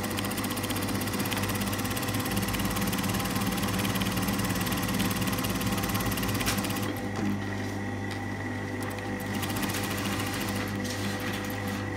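A domestic sewing machine stitching around the base of a tunic collar, its motor whirring in a dense, rapid continuous buzz close up, running steadily before easing into a lighter hum near the end.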